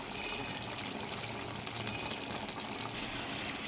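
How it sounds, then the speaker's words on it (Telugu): Water pours steadily into a pot of chicken sherva curry, a continuous gushing splash heard close up with no voices. "నీళ్ళు పోసుకుందాం"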